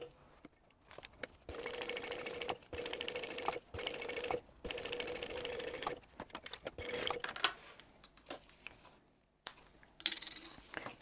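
A sewing machine top stitches around a tote bag at about 3 mm, running in several steady mechanical bursts separated by short pauses, close and clear with no talking.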